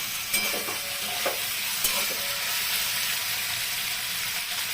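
Ash gourd stems frying in a pan with potato and pointed gourd, seasoned with salt and turmeric, a continuous close sizzle with occasional scraping stirs and light spoon knocks.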